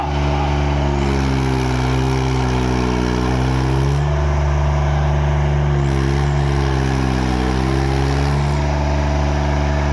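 A loud, close tractor engine running continuously, its pitch rising and falling as it revs up twice, with a steady low rumble underneath.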